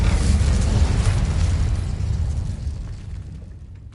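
Incendio fire spell cast in Hogwarts Legacy, a single loud whooshing blast with a heavy low rumble that slowly fades over several seconds, alone with no talk.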